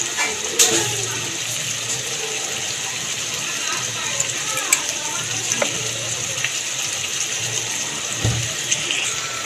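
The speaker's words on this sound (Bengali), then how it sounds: "চিনিটা দিয়ে একটুখানি ভালো করে নাড়িয়ে নিলাম দেখে চিনিটা মিশে যায় সব পটলের মধ্যে" A spoon stirs sugar into a vegetarian potol (pointed gourd) and peanut curry in a pan, giving soft continuous scraping with scattered light clinks against the metal over a steady kitchen hiss.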